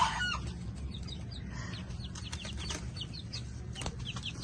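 Young chicks, a 43-day-old brood, clucking and peeping in repeated short calls over a steady low background hum, moderately close, with no talking.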